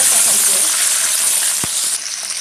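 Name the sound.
whole spices sizzling in hot oil for tempering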